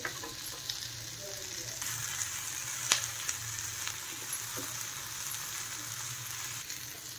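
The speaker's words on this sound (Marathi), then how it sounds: "ती कसुरी मेथी आहे 1 चमच, ते पण टाकून भाजून घ्यायचं आहे" Gentle sizzling from a pan of spices with dried fenugreek leaves roasting, crackling quietly, with an occasional sharper tick or clink against a soft steady hiss.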